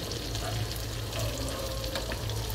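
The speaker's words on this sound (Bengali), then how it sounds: "তো এভাবে আপনারা উল্টিয়ে ভেজে নেবেন" Slices of pointed gourd (potol) fry in hot oil, being turned to brown the other side, producing a dense, even crackling sizzle that stays constant and close for the whole stretch with no voices.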